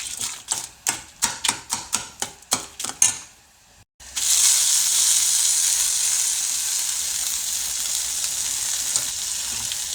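Curry leaves roast in a hot kadai for rasam: a quick run of sharp rhythmic crackles and taps, a short pause, then a loud continuous hiss of sizzling that slowly settles.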